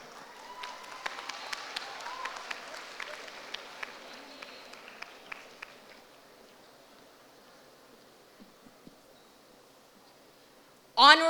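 Audience applause for a junior debate speaker at a scholars' competition in Hanoi, a moderate steady patter of clapping with sharp individual claps that fades to quiet, followed by a brief loud noise at the end.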